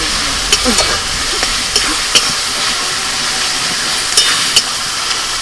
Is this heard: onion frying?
yes